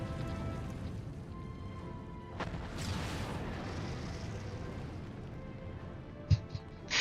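Muffled explosions in the online role-playing game Final Fantasy XIV, heard as a low rumbling bed with a few dull booms and one sharp thump near the end, all moderately distant.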